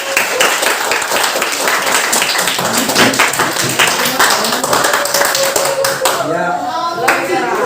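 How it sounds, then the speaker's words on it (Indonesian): Classroom applause for a student group, a dense, steady patter of many hands clapping close by that fades near the end as a voice speaks. "tepuk tangan dulu untuk kelompok 1"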